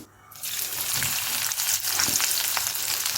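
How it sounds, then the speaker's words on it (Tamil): Crushed garlic hits hot oil, probably coconut oil, and a loud burst of sizzling starts after a brief quiet moment. The frying then crackles on steadily, with a few stirring scrapes. "பாருங்கள் பூண்டு போடுறேன் பூண்டு இடித்து போட்டிருக்கிறேன்"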